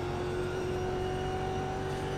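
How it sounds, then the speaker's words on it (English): A racing video game car engine, a Mustang, holds a steady, even drone with sustained tonal hums throughout, moderately loud with no speech over it. "I turned down the engine noise a little."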